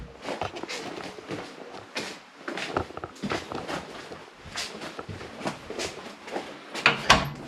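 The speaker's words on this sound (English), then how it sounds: "I can hear him knocking" Knocking on a door from someone locked outside a house during domestic kitchen rewiring, a series of sharp irregular raps at moderate loudness, ending in a louder cluster of knocks.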